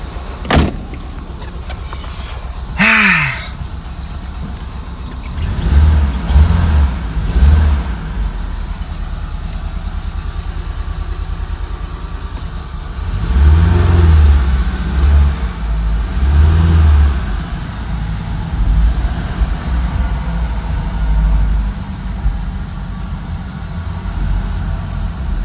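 Ford Scorpio 2.0i GL driving on the road, with a steady low engine drone inside the car and a few swells of revving, plus a brief whirring whine early on.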